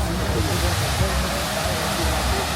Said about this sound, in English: The OG 90s kids will remember the upside down waterfall.